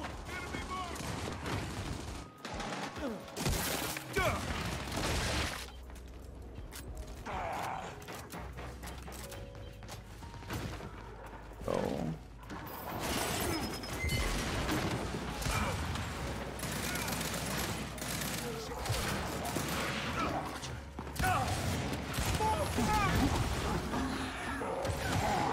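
Gunfire in the shooter game Gears 5, ranked Control mode, with bursts of rapid shots and impacts over a dense game mix, at times under a player's voice.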